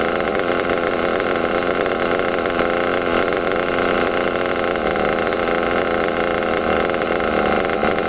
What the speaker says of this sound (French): Maintenant on va pouvoir enfin régler le ralenti.